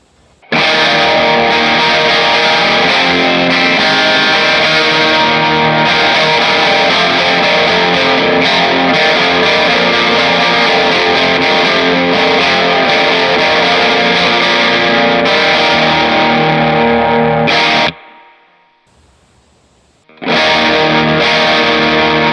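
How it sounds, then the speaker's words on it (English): A heavily distorted Knoxville Thinline Telecaster electric guitar plays loud, sustained, saturated chords for a long stretch, cuts out briefly, then comes back in. "it's a really versatile little guitar"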